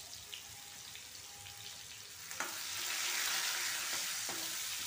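Garlic dropped into hot oil with popped cumin and mustard seeds for a palak dal tempering, a faint crackle turning into a steady brighter sizzle partway through, with a few light clinks and no voices.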